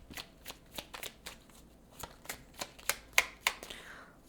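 Tarot cards being shuffled up close, a steady run of crisp riffling snaps and flicks that grows busier and sharper toward the end, heard alone without talk.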